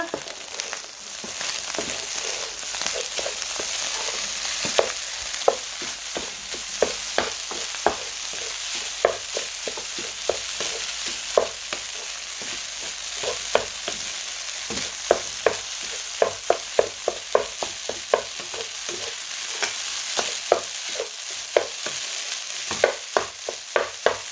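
Shredded string hoppers (idiyappam) frying and stirred for kothu in a pan, a constant soft sizzle broken by quick, regular scraping strokes of the spatula throughout.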